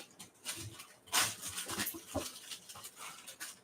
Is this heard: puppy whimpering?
yes